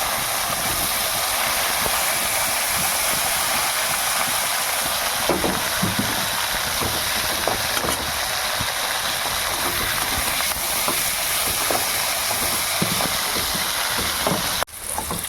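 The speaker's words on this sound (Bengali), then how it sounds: "উচ্ছেগুলোকে লম্বা লম্বা করে কেটেছিলাম একটু নুন হলুদ মাখিয়েছি আর তেলের মধ্যে দিয়ে ভাজবো" Long strips of bitter gourd, rubbed with salt and turmeric, frying in hot oil, a dense, steady hiss and crackle held close throughout with occasional clinks, no speech over it.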